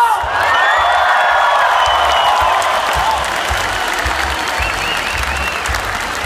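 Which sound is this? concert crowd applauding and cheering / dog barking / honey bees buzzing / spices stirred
concert crowd applauding and cheering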